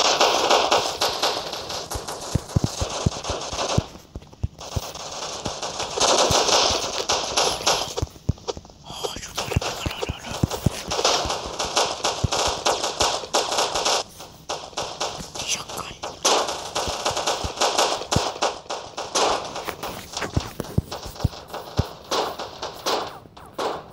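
Repeated sharp pistol shots from two guns in the blocky online shooter Block Strike, fired in quick irregular bursts over about twenty seconds amid game noise and occasional talk.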